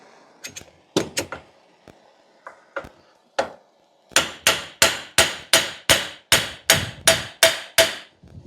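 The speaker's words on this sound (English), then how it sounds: "After a little hammering and beating" Hammer blows on a metal car driveshaft, a few scattered strikes at first, then a steady run of about a dozen loud, ringing hits at a regular pace.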